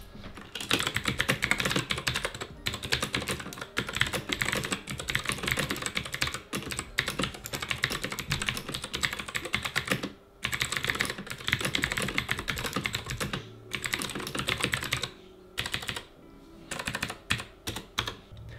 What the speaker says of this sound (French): clavier utilise des switches bleus qui sont pas mal bruyants